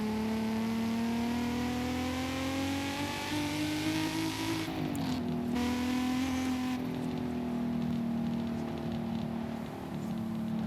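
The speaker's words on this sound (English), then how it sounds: "Car sounds really good" A car engine in Forza Horizon 5 revs and pulls through rising gears, a strong steady drone climbing in pitch, dipping at a shift around the middle, then holding a loud sustained whine, with no talk.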